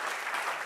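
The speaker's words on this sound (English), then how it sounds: "Come on, clap people." Brief burst of audience clapping at a startup talk, a steady dense patter with no voices over it.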